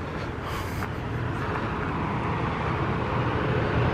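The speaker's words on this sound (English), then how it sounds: "Hear that? That's traffic noise" Steady distant road traffic hums as a constant broadband rumble near a lakeside campground resort at McLeese Lake, British Columbia, with no voices.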